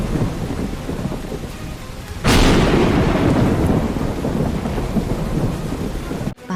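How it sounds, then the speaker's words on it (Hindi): Steady heavy rain at night with a loud thunderclap breaking in partway through and rolling on under the downpour, which then continues until a sudden cut near the end. "बारिश शुरू हो चुकी थी।"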